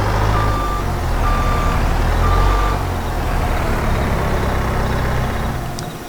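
A New Holland skid steer's reversing alarm beeps steadily in a slow repeating pattern over a loud, constant diesel engine rumble close by on a hay farm, with no voices.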